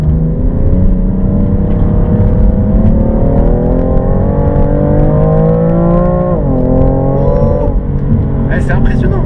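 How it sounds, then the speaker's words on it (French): BMW M3 accelerating hard, its engine note climbing loudly and steadily before a gear shift drops the pitch, then rising again close up. "t'accélères et quand on passe la troisième, ça accélère encore plus fort au passage de la vitesse"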